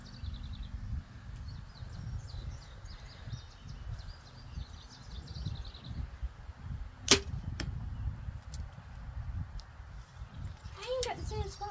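Outdoors, an arrow strikes a paper target with a single sharp, loud smack midway through, followed by a lighter tap, under steady wind noise, distant birdsong and people talking.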